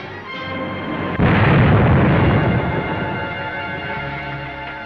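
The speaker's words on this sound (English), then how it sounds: "Foreman drove right into that blast." A roadside explosion blast from a 1940 film serial hits as a sudden deep roaring burst that rumbles and slowly fades under a steady, noisy old soundtrack.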